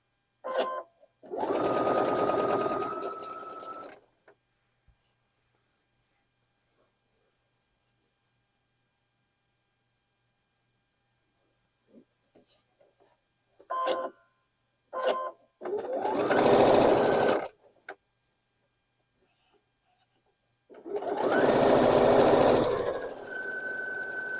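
A sewing machine stitches quilt block seams in three loud, steady bursts of a few seconds each, separated by quiet gaps with small clicks and handling noises.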